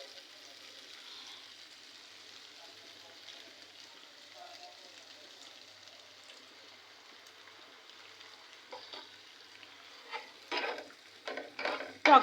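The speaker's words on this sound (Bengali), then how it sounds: "এই যে পেঁয়াজ, আদা, রসুন, গোলমরিচের গুঁড়া, জিরার গুঁড়া, ধনিয়ার গুঁড়া সব ভোনা হয়ে গেল" Onion, ginger and garlic frying with ground black pepper, cumin and coriander in a pan, a soft steady sizzle with scraping stirs that grow louder and clatter near the end.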